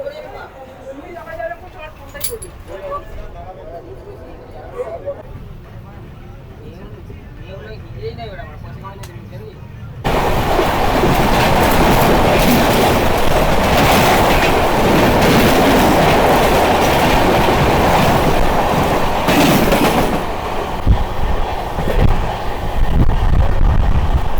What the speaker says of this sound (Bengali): আমার ট্রেন ছেড়ে দিল মেসিয়া থেকে